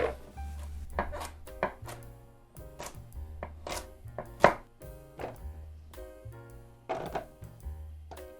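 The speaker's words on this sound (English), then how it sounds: "go ahead and get yourself 2 large carrots, or in my case, 3 medium-sized carrots. And then same as before, just give it a nice rustic cut." Three medium carrots are cut into rough chunks on a board, a rapid series of firm, close knife chops with irregular pauses between strokes and no talking.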